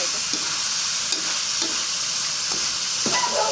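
Stir-frying Chinese kale in a hot pan for a home evening meal: a steady oil sizzle with a few distinct scrapes and stirring strokes, close and fairly loud, with no talking.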